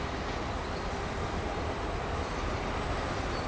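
A train in the Train Sim World game rolls steadily along track toward a terminal switch, a dense, continuous rumble of wheels and carriage noise at constant loudness with no pauses.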